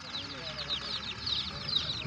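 Chickens clucking at an outdoor poultry market in Sungurlu, Çorum, a steady chorus of soft, overlapping clucks and chirps at moderate distance with faint background noise throughout.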